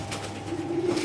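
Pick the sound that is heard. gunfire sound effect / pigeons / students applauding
pigeons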